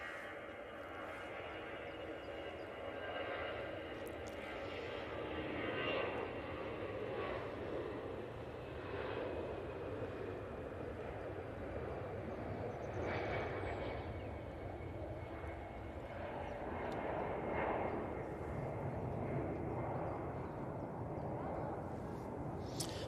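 An Airbus A321neo taxiing at Manchester Airport produces a faint, steady engine drone heard from a distance, with soft background noise throughout.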